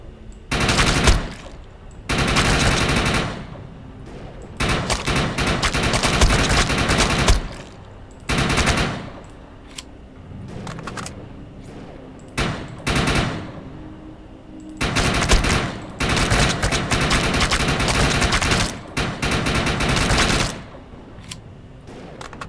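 Sustained bursts of automatic gunfire from the video game Defiance, loud and dense, rattling in long volleys separated by brief pauses.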